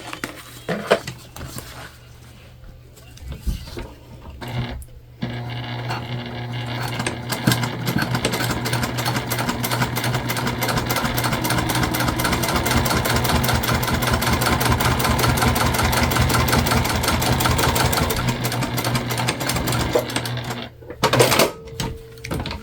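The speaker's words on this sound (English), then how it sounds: "we're gonna flip up our top piece so that we can do a top stitch up here as well" A sewing machine runs steadily for about fifteen seconds, top stitching a pocket seam on a fabric candy bag, with a quick rattling stitch rhythm that starts abruptly and stops near the end, followed by a few short handling knocks.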